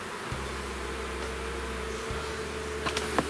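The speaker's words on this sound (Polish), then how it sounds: "Bo te pszczoły się tu nie pomieszczą." Honeybees buzz during a honey harvest, a steady close insect drone with a few small knocks near the end and no speech.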